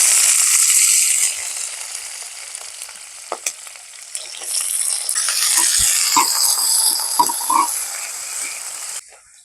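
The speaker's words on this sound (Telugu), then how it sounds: "దీంట్లోనే ఉల్లిగడ్డ పచ్చిమిరపకాయలు వేసుకుందాం" Onions and green chillies sizzling in hot oil with mustard seeds for a raw banana curry, a loud steady fry that dips and then swells again with crackling pops and stirring.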